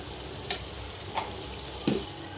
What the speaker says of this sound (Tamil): இஞ்சி பூண்டோட பச்சை வாசனை போகிற வரைக்கும் நல்லா வதக்கிக்கோங்க